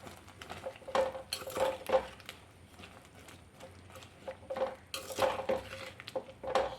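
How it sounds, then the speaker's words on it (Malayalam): A spoon stirs powdered jaggery into Kerala koottu curry in a metal pot for an Onam recipe. Irregular scraping clinks and knocks sound close and fairly loud, in uneven bursts with short pauses. "നന്നായിട്ടൊന്ന് ഇളക്കി കൊടുക്കാം"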